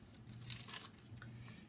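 A pack of Nature's Poem Designer Series paper rustles and crinkles faintly in a brief burst of handling, with soft papery crackles and a low background hum.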